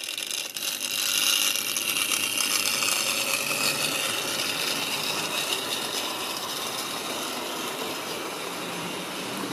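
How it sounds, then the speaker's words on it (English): A vintage Hornby Dublo model locomotive runs steadily along the track, a continuous close mechanical whirr and rattle of motor and wheels with no talking. "Much noisier than some modern locomotives, but still pretty smooth."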